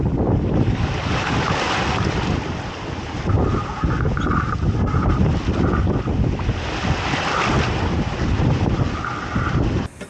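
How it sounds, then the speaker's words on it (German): Heavy sea waves surge and crash around a small sailing boat in the strongest swell so far, with gusting wind buffeting the microphone in a loud, continuous roar that swells and eases. "So, heute haben wir den stärksten Wellengang bisher. Es hat uns ordentlich durchgeschüttelt."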